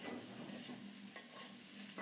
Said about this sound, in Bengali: এবার আর ঢাকা দেব না, নেড়ে চেড়ে আরও কিছুক্ষণ ভেজে নেব।